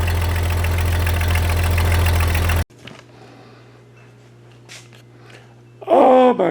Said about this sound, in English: rockabilly wrap, 1932 Chevy, original engine.